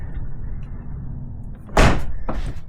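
A Corvette car door shuts with one solid slam, preceded by a low background hum and followed by a short rattle, close and loud.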